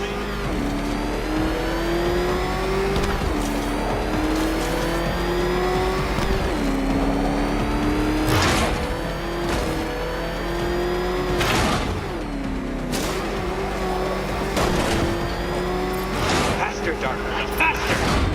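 Car engine racing in Batman: Arkham Knight, a steady high droning roar with rising revs and gear shifts, loud and sustained, punctuated by several sharp impacts and crashes, with a voice talking over it.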